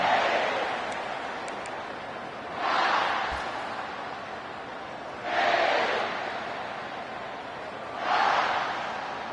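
A stadium crowd at a Texas football game roars in three or four broad swells that rise and fade every few seconds over a steady background murmur, with no clear talking.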